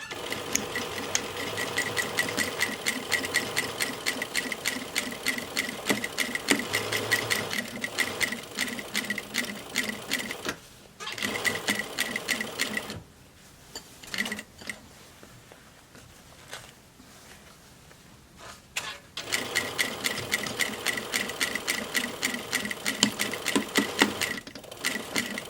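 Domestic sewing machine stitching a cotton fabric face mask, running in steady rapid bursts at close range with a quiet pause midway before the stitching resumes.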